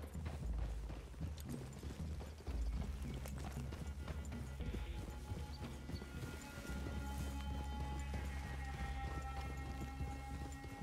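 Horses trotting in the video game Red Dead Redemption 2, steady clip-clop of hooves amid a busy outdoor game soundscape with rain-like patter and low rumble, continuous and moderately close.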